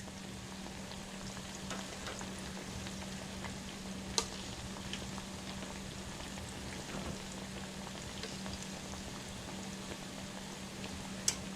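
Plantains fry in hot oil in a pan, a faint continuous crackling sizzle with a steady low hum beneath and an occasional sharp tick.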